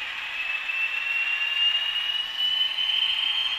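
A model railway locomotive's small electric motor runs steadily, giving a continuous high, thin whine with a faint mechanical buzz that holds level throughout.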